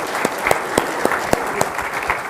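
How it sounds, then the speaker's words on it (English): A conference audience applauds a panel on fraud and cargo theft with a steady wash of clapping, and a few sharper individual claps stand out near the microphone. "If we can get a round of applause for the panel for their time"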